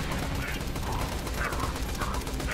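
Rapid gunfire aimed at the player in a video game, a dense crackling stream of shots with faint mechanical clatter, loud and continuous throughout.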